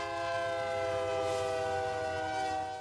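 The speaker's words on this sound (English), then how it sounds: "As soon as the warning sounds and the lights start flashing, you have about 25 seconds before the train rolls through this intersection." A train horn blares steadily at a town level crossing where warning lights flash, a loud sustained multi-tone blast held throughout over the rumble of the passing train.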